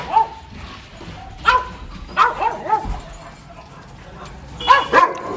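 A Golden Retriever barks and yips in short, scattered bursts, with a few whimpering notes between them. The dog is fairly close, and a little talk can be heard in the background.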